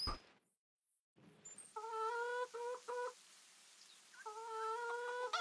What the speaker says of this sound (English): I'm just going to feed the chickens as well.